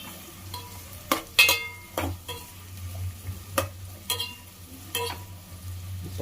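Chicken curry ingredients, onions among them, frying in a pan in an Andhra-style kitchen, a soft sizzle under repeated sharp scrapes and clinks of a spoon stirring against the pan at an uneven rhythm.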